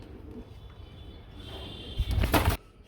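A racing pigeon coos softly against a quiet background, followed by a louder burst of fluttering or shuffling that ends abruptly near the close.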